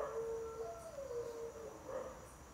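A dog howls faintly in the distance, a long wavering cry that rises and falls, repeated over a quiet background.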